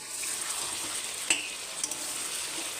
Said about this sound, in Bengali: এরপর হলুদ, লবণ, জিরে গুঁড়ো, শুকনো লঙ্কা গুঁড়ো দিয়ে একটু কষিয়ে নিচ্ছি।